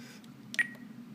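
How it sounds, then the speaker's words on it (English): A Spektrum DX9 radio transmitter gives a single short electronic beep with a brief tonal tail, close and faint over a low steady hum, no talking. "beep, which drives me nuts."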